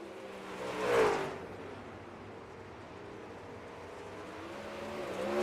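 A Super Late Model race car crosses the start/finish line on lap one, its engine swelling into a loud, close pass early on, then fading into a steady, droning engine rumble from the field that builds slightly toward the end.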